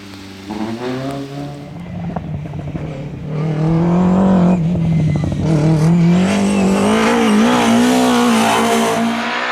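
A DAF 66 Marathon competing in a historic rally in Flanders drives hard, its engine droning and then climbing in pitch as it accelerates, with some tire noise, close and sustained.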